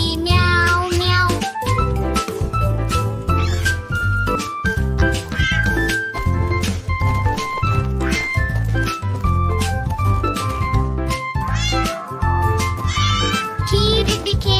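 Singing voices imitate a cat's meow in a Hindi nursery rhyme for children, repeating the meow over a bouncy musical backing with steady beats.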